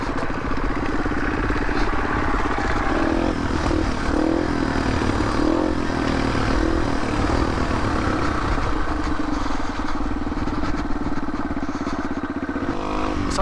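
A rebuilt Yamaha TTR 230 dirt bike is ridden on its shakedown outing at an enduro family day. Its engine drones steadily and loudly the whole time, rising and falling slightly in pitch with throttle changes, and clatter runs underneath.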